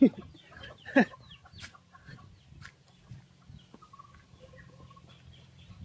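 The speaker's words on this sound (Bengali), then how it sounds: "আমার জ্বালাই তো সবাই পালাচ্ছে মুরগি" Chickens in a village farmyard cluck and squawk as they scatter, with a loud flurry at the start and another about a second later, then fainter clucking, rustling and scattered calls close by.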